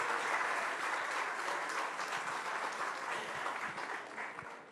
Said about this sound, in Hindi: इतनी ताली और ऐसा स्वागत जो फिल्म स्टार सब भी आ रहे हैं उनके लिए भी नहीं हुआ है